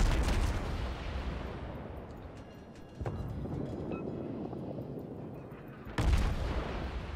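Ship guns of the Perth firing in World of Warships: heavy booming salvos with a rumbling decay, one near the start and two more loud blasts about three seconds apart.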